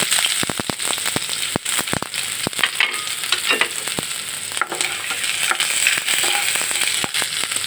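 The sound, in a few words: chopped onion frying in hot oil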